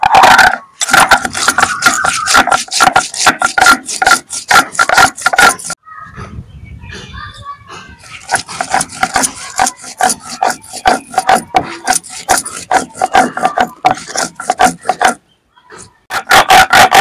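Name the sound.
grinding chilli, garlic, cumin and mustard into paste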